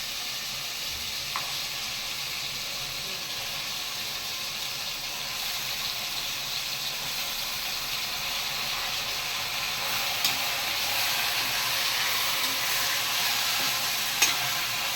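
Chicken pieces for a village-style chicken curry sizzle in a pan with ginger garlic paste, a steady soft hiss with occasional small crackles and stirring scrapes, fairly quiet and continuous.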